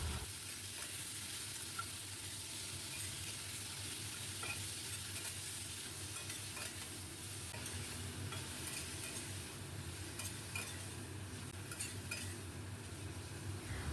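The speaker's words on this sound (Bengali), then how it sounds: "খুব ভালো করে এবার আমি ভাজতে থাকবো। গ্যাসের ফ্লেমটাকে আমি হাইতে রেখে এইভাবে ভাজবো।" Salt and turmeric coated prawns frying in a pan over a high gas flame, a constant loud sizzle with stirring scrapes and light metal clinks throughout, no voices.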